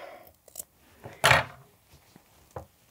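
Scissors trim seam allowances on a fabric collar, several close, quiet snips with one louder crisp cut in the middle, and soft handling rustles between them.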